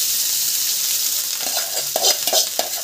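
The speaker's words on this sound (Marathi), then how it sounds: "जिरे टाकले तेलामध्ये, लाल तिखट आणि हळद ते ह्याच्या भातातच टाकलेलं बघा." Cumin, red chilli powder and turmeric sizzle in hot oil mixed into rice, a steady close frying hiss with a few scraping stirs of a spoon toward the end.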